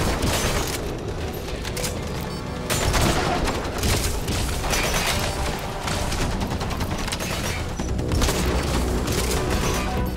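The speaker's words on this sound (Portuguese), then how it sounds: "Quiet tá atirando, né?" Quiet, the sniper companion in Metal Gear Solid V: The Phantom Pain, firing during a heavy battle, with dense continuous gunfire and booming impacts piling up throughout, loud and close, with no clear gaps between volleys.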